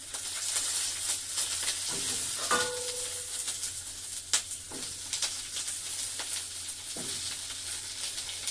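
Coriander seeds frying in hot oil in a pan, a steady close sizzle with occasional stirring scrapes and clinks, no talking.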